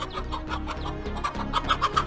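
A mother hen clucks repeatedly while she faces down a cobra to protect her chicks, a run of sharp close clucks rising in intensity toward the end.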